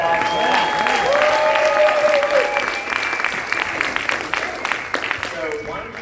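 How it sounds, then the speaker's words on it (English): An audience at a builder retreat panel breaks into sustained applause, a loud wash of clapping that slowly fades, with voices and a few cheers mixed in. "Give him a round of applause."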